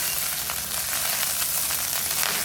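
Coconut rice being stirred in a hot pan over high heat, giving a steady, close hiss of frying with soft scraping strokes throughout and no talk.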